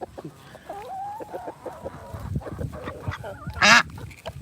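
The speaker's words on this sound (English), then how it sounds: "Chicken pecking my silicone ring. Crazy chicken." A chicken clucks close by in a farmyard, its short nasal calls coming in uneven bursts over low background noise, then a sharp, loud squawk near the end.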